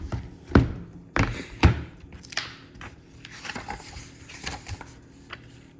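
Book handled while someone searches through a math text: a few sharp thumps and taps near the start, then softer rustling page and handling sounds close by with no talk.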